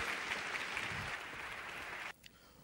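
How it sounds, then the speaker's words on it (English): A theatre audience applauds as student performers of a duo literature piece come out on stage, a dense steady clapping that cuts off sharply after about two seconds. "if you could please give them a huge round of applause as they come out for you"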